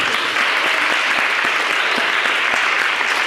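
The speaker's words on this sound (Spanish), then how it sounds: "Muy bien, un aplauso." Classroom applause, a dense, steady patter of many hands clapping at close range, continuous and fairly loud throughout with no talk.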